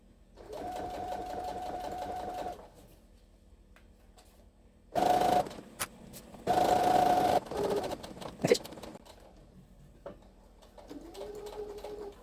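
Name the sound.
sewing machine sewing a zipper pouch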